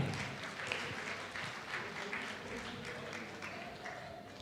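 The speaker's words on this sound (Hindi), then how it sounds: "पाठक साहब के लिए जोरदार तालियां।" Quiet applause from an audience at a gathering with a gift giveaway, continuous clapping at a distance with faint voices underneath.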